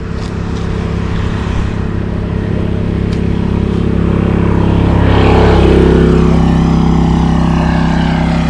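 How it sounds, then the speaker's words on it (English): A diesel-powered golf cart in South Carolina passes close by, its low, steady engine drone swelling and growing louder toward the middle and end of the pass, no talking. "I think it's a diesel-powered golf cart just drove by me"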